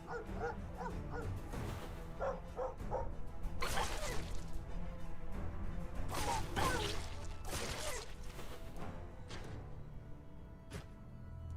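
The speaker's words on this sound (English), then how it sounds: "He's heard the dogs barking." Dogs bark and yip in the fantasy video game Stoneshard, a run of sharp repeated barks and whimpers at moderate volume over game sounds, with a few swishing effects mixed in.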